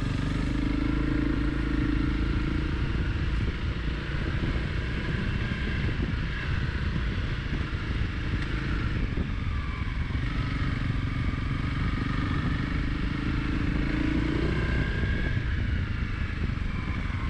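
Honda CRF300 Rally motorcycle ridden on a Belgian trail, steady engine drone with rumble and clatter from the rough ground and wind buffeting the microphone, continuous and close, with no talk.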